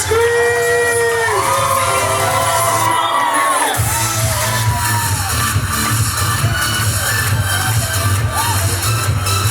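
Wedding guests on a reception dance floor scream and cheer together, a loud crowd roar that swells and keeps going over booming party music.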